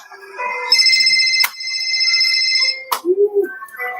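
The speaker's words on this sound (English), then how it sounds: "whose phone is that?" A phone ringtone plays a loud, sustained electronic melody of layered tones with a sharp click partway through, followed by a brief sliding tone and faint voices, heard on a Universal Studios Hollywood tour.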